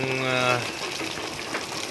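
Swollen river water rushing in a steady, loud roar after typhoon and monsoon rain in Kalumpang along the Marikina River, with a brief tonal hum at the start.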